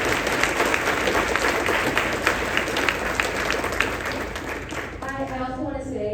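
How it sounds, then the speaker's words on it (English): Steady, dense applause from a conference audience at a semiconductor summit, filling the room for several seconds before tapering at the end as talk resumes. "can everyone give a nice warm round of applause for them?"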